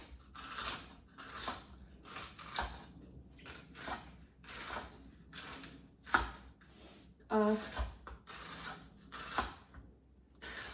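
A knife cuts celery into thin slices on a board, giving a run of crisp, close chopping strokes in an uneven rhythm with brief pauses between them.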